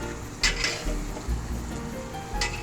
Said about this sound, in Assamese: মাংসটো এতিয়া পূৰা ভাজিব লাগিব